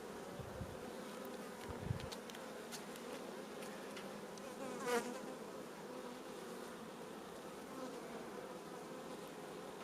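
Honey bees buzz in the middle of an open hive during a search for the queen, a dense, steady drone close by with individual bees flying past now and then.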